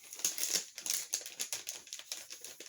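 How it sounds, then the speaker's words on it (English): Crinkly packaging around small secondhand soap stamps rustles and crackles in quick, close, irregular bursts of soft plastic crackling. "sorry about the crinkling"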